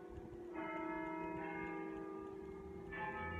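A church-style bell rings near a memorial library in Jim Thorpe, Pennsylvania, its sustained tolling struck again in a few repeated swells, heard at a distance over quiet outdoor background.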